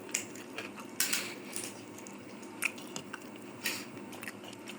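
Quiet, close eating of pilaf (polao) with salad: soft chewing, crunchy bites and occasional clinks of cutlery on a plate, scattered irregularly over a faint room hum.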